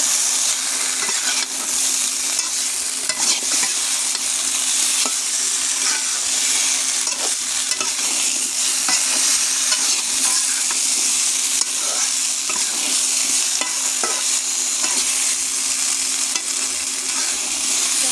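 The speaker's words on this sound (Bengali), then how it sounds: "ভালো করে নেড়ে কষিয়ে নেব।" Hilsa fish curry with potato and green banana being stirred and sautéed in a pan, a steady close sizzle with repeated scraping stirs throughout, no voices.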